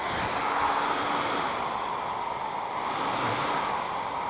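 An ionic hair dryer with a diffuser attachment blows a steady, loud broadband rush of air that runs unbroken from start to finish, with no voices over it.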